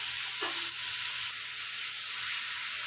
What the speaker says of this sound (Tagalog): Ihawin lang natin itong ating liempo guys.